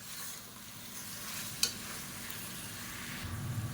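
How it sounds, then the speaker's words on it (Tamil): Masala with turmeric sautéing and stirred in a pan, a soft continuous sizzle with a sharp spoon scrape partway through and faint stirring sounds toward the end, alone and fairly quiet. "லேசாக வதக்கி விட்டுக்கலாம்."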